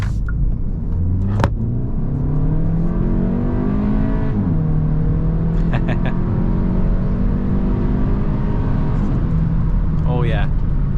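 A 2024 Hyundai Elantra N Line's 1.6-litre turbocharged four-cylinder engine pulls hard through rising revs on a highway, drops as a gear changes, then climbs again, with steady road rumble and a few clicks.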